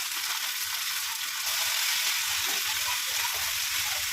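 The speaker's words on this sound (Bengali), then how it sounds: "এবার আমি এই পেঁয়াজের সঙ্গে ভেজে নেবো, ভালো করে লাল করে ভেজে নেবো" Dried fish frying with onions in an oiled pan gives off a constant, even sizzle that stays close and unbroken, with no voices.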